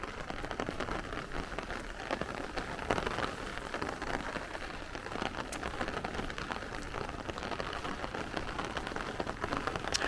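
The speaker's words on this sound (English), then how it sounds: "You hear the rain is kind of moderate." Moderate rain falls steadily during a Brooklyn thunderstorm squall, a dense even patter on pavement with scattered sharper drops, fairly quiet and continuous, with no speech.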